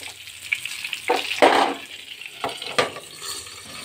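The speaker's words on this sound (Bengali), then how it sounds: "এভাবে বেগুনগুলো আমি আগে ভেজে নিচ্ছি।" Eggplant pieces frying in a pan for a Bengali-style brinjal curry, with close, loud bursts of sizzling and crackling oil alongside occasional stirring clatter against the pan.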